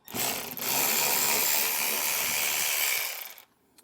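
A 7mm socket on an electric ratchet whirs steadily for about three seconds, close by, taking out fascia bolts in a tight spot while fitting a tow base plate on a 2024 Ford Maverick, then stops.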